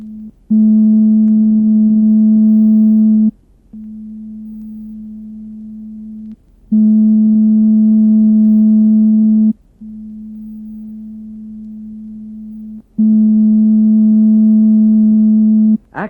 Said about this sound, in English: Listen as we play 2 pure tones, one softly, then one loudly.